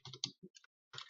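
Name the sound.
typing code on a computer keyboard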